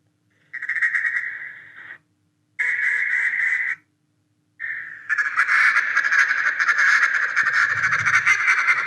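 A duck call is blown to imitate a hen duck's nasal quack. Three drawn-out, buzzy notes separated by short pauses lead into a longer continuous stretch, loud and close.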